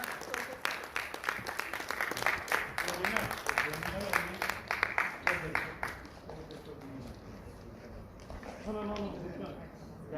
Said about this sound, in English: with huge round of applause, help me to congratulate Miss Hyacinth Mary Cruz